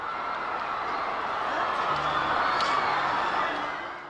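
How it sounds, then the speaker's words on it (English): A large organized crowd at a Ceaușescu speech lets out a low, swelling murmur of jeers, a broad continuous roar that builds slightly and holds, heard from a distance with a few faint shouts rising out of it. "From the heart of the organized crowd, a low murmur arose, not of applause, but of jeers"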